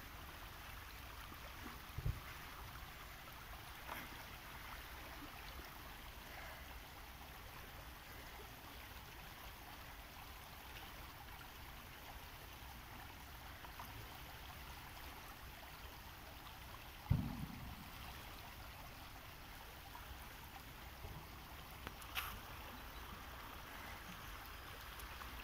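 Soft, steady rushing of a flowing river fills the background throughout, faint and continuous, with a few brief knocks and bumps.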